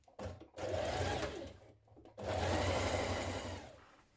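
Sewing machine stitching around a shirt collar in two close, steady motor runs separated by a short pause, each ramping up and winding down.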